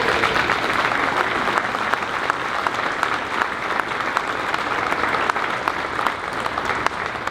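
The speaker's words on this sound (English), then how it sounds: "Let's give them a round of applause," Sustained, even applause from a crowd at a military change of command ceremony, steady and full with crisp individual claps standing out.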